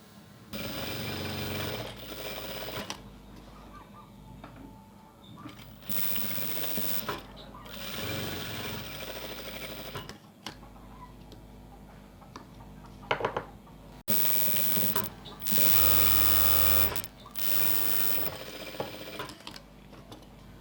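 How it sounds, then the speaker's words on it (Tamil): A sewing machine stitches a blouse during an alteration, running in several loud bursts of rapid mechanical whirring separated by short pauses. "பக்கத்தில் வேணால் ஒரு தையல் போட்டுக்கலாம்."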